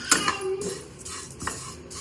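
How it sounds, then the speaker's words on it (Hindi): Flattened rice (chuda) roasting in a pan over medium heat, heard as a few light scrapes and clinks of a utensil against the pan, close and moderately loud, with no speech. "तो इसे भी हम जो है मीडियम आंच पे भून लेंगे।"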